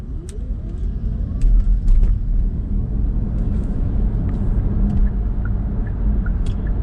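Kia EV5 Air Long Range electric car cruising on a highway at around 110 km/h, a steady low rumble of tyre and road noise from inside the cabin with a few faint clicks and ticks.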